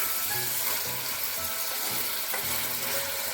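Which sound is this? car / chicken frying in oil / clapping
chicken frying in oil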